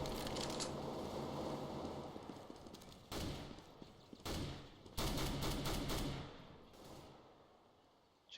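Automatic weapon fire in Counter-Strike: Global Offensive, several loud bursts of rapid gunfire breaking through a dense background of game noise, followed by a quieter tail near the end.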